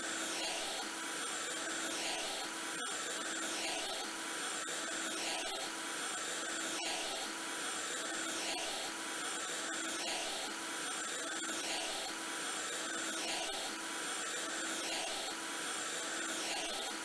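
Vacuum cleaner in the House Flipper video game, a loud steady whining drone that runs unbroken, with a faint regular pulsing.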